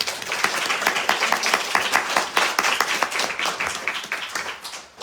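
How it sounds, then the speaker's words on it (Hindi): An audience at a Hindi morning kirtan program held for a home inauguration in Seattle claps steadily for two people, a dense run of applause lasting several seconds that fades at the end. "एक बार इन दोनों के लिए ताली बजाओ।"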